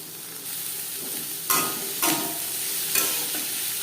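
Chopped onions fry in hot oil in a wok with a continuous loud sizzle, while a spatula stirs them in three or four distinct scraping sweeps. The sound is close and there is no speech.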